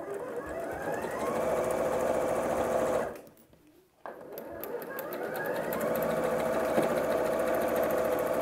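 A sewing machine stitches a curved quilt block, running in a steady fast whir, pausing briefly partway through before picking up again close and clear.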